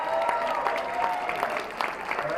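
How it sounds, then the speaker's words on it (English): Steady applause from an audience, a dense patter of clapping throughout with a faint crowd murmur, fairly distant and even in loudness. "Let's give her a round of applause."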